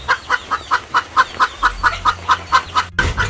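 A chicken clucking near an outdoor cooking pot in the hills of Westmoreland, a quick even run of about a dozen sharp clucks, close and clear over a low background.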